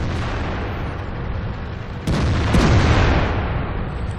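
Artillery fire and tank explosions in the World of Tanks video game, Clan Wars tier 8 battle on Fjords: a steady low rumble, then a loud boom hits at about two seconds and a second blast follows half a second later, both left rolling.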